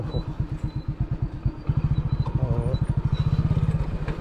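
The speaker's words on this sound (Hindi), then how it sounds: "ये शायद 99 सीसी की एक हीरो की बाइक है स्प्लेंडर प्लस बहुत स्टीप में उतर रहा हूँ अभी" A Hero Splendor Plus 99cc motorcycle descends a steep off-road slope, its small single-cylinder engine thumping in a steady, fast pulse that grows louder and denser partway through, heard close and alone.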